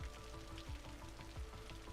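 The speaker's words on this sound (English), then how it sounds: "then the rain will turn off" Steady rain falls in a city-building video game, a soft, even hiss of drops spattering on surfaces, with a low rhythmic thump pulsing underneath and no talk.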